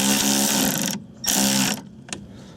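A 19mm nut on the front anti-roll bar drop link of a 2.0T 8P Quattro TFSI Audi A3 is run down with a tool held by a 5mm Allen, giving two buzzing whirring bursts of about a second each and a brief final blip.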